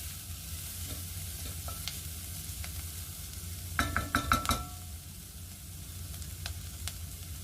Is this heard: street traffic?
no